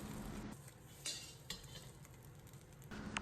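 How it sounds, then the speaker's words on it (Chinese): Scrambled eggs gently pushed around a hot oiled wok with a spoon, a steady quiet sizzle with soft scraping strokes and a few light clinks of the spoon against the metal. "鸡蛋尽量炒的不要太散，用勺子轻轻的推动，使其受热均匀"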